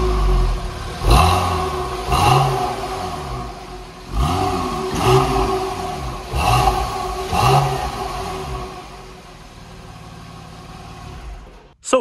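A Porsche 911 engine with a six-speed manual fires up and revs repeatedly in sharp, rising bursts, each blip falling back to a rough idle, loud and close before settling.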